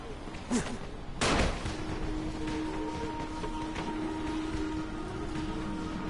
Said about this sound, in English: equip firecrackers and press L2 to throw them